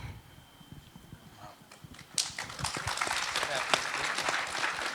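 Applause rises from a crowd at a youth leadership delegation event at a congress, starting sparse and swelling into steady, dense clapping that fills the second half.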